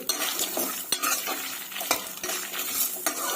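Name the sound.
stirring fried coconut chutney ingredients in a pan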